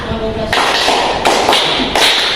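A classroom of students claps out the 'tepuk lima' five-clap pattern. Several sharp, loud group claps land in an uneven rhythm, close by and without talk.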